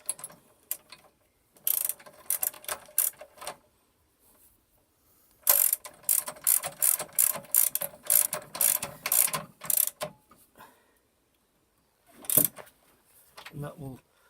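Ratchet nipping up a bolt on a coil conversion kit for an MG F suspension, in bursts of rapid close clicking strokes separated by pauses, with someone talking between them.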